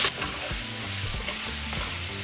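Ground beef for cheeseburger sliders, seasoned with spices and brown sugar, frying in a pan as it is broken up, with a steady sizzle and a few spatula scrapes and knocks close by.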